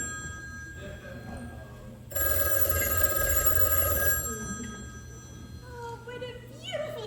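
A telephone bell rings loudly for about two seconds in one sustained burst, then stops during a high school stage musical; music plays in the background throughout.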